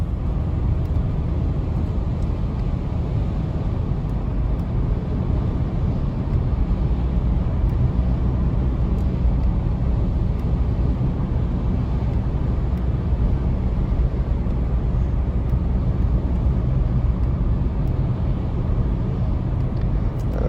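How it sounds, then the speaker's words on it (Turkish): A new Volkswagen Polo climbs a steep winding mountain road in sixth gear, its steady engine drone mixing with road and wind roar heard from inside the cabin, constant and loud throughout. "Araç vitesi 6. vitese taktı gördüğünüz gibi D6."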